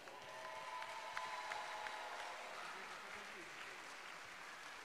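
An audience at an Italian award ceremony for student achievement applauds steadily, dense and sustained clapping that fills the room at a constant level from start to finish.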